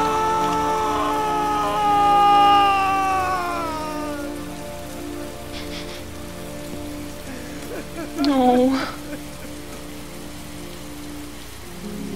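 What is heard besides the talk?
rain falling, from the video game Heavy Rain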